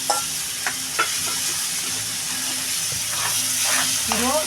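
Onion, garlic and ridge gourd peel fry and dry in a pan, with a steady sizzling hiss and occasional stirring scrapes close up.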